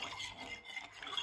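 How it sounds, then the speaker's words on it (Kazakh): A teaspoon stirring two spoons of sugar into warmed milk, a soft continuous scraping and swirl, close and faint with no talk. "Бір осындай 2 шай қасық қантымыз салып, араластырып ерігенін күтеміз."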